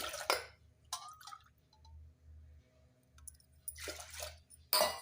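Water poured in splashes and drips into a vessel of soaked dal for vakkaya pappu, three glasses of water to one glass of lentils, with a few bright pours amid quiet dripping and low background hum.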